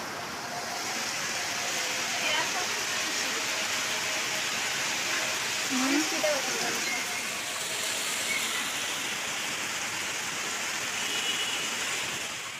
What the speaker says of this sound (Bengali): বৃষ্টি নেমে গিয়েছিল আর আমি বেলকনিতে দাঁড়িয়ে বৃষ্টি উপভোগ করছিলাম।